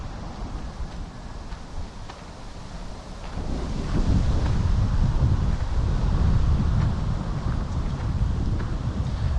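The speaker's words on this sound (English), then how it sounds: "it is a bit windy and kind of cold" Cold wind by the water in Rovaniemi, Finland rumbles and gusts against the microphone, rising to a stronger, louder roar partway through and staying there.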